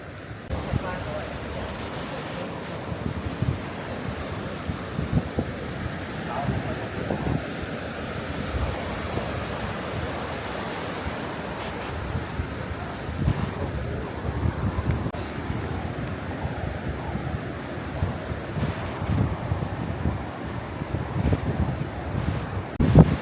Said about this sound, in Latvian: Šodien ir vējains. Tādi viļņi, wow!